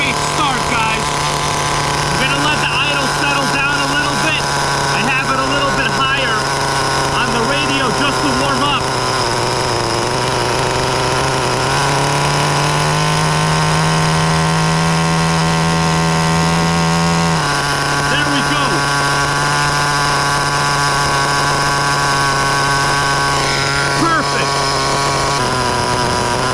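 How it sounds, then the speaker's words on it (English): A Smartech Magic Wheel nitro RC truck engine, a T-Maxx clone, idles steadily up close with a buzzy, continuous drone that shifts in pitch partway through, while someone talks over it. "I'm gonna let the idle settle down a little bit."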